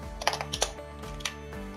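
Computer keyboard keys tapped in quick irregular bursts while a post title is entered, close and clear, with a steady tonal hum underneath.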